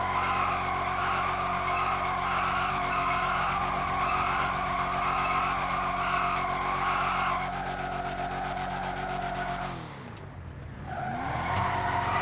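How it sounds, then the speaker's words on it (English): A car does a burnout in a video game, its engine held at a high, steady roar while the tires squeal loudly and continuously, then briefly dip and pick up again near the end. "I'm going to go ahead and do a burnout here."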